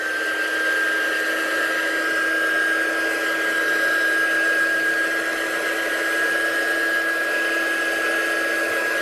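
Heat gun drying an inky stencil background on paper during a crafting session, producing a loud, continuous blowing roar with a steady high whine that holds unchanged throughout.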